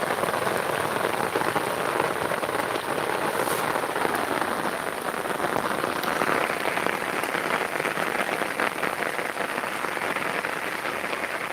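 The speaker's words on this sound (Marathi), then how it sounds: "जोरदार पाऊस आहे" Heavy monsoon rain pours steadily over waterlogged farmland in Palghar, India, a dense unbroken hiss of drops drumming on surfaces, loud and close throughout.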